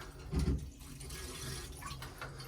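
A central heating pump on a home hot water system starting up, with a soft low thump followed by a steady, faint rush of water flowing through pipes.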